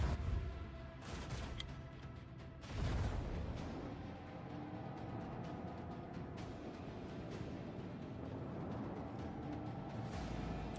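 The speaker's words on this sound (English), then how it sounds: "Hear the macro cannon roar." Heavy macro cannon blasts in a video game boom at the start, followed by a sustained rumbling barrage of distant firing and crackling impacts.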